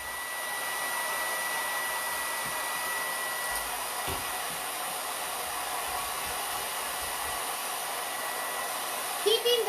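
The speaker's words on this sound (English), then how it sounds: "Keeping the dryer this far back also makes sure that you're not burning the dog." A hair dryer blows continuously while a dog is dried during home grooming, a steady, fairly close whooshing hiss held at arm's length, with a few faint knocks and no talk.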